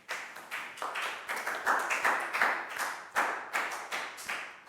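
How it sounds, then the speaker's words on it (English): Children in a classroom clap in a round of applause during a primary science lesson, a steady run of quick, fairly close handclaps with uneven rhythm, moderately loud and with no talking over it. "High five and a big round of applause for Net,"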